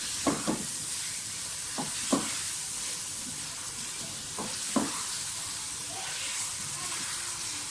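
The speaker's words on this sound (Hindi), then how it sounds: "बहुत मज़े का मटन पालक गोश्त हमारा देगी स्टाइल का बन रहा है।" Mutton palak gosht cooking degi style, with a steady frying hiss and sizzle throughout, broken by a few soft clinks and stirring knocks, close by.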